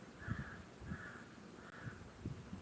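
Three or four harsh crow caws repeat at a steady spacing, fairly close and clear over a faint background, with no voices.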